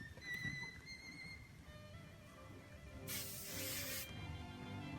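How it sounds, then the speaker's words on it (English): A single burst of hairspray hisses onto hair for about a second, loud and close against an otherwise quiet room with faint rustling. "Next, I get the hairspray out and we smooth the fuzzies down a little bit more."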